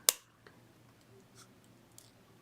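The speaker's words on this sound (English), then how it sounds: "Take your cutter and cut it at a nice slant." One sharp, close snip of a wire cutter through thin jewelry wire while making wire-wrapped beaded earrings, followed by a couple of faint ticks in a quiet room.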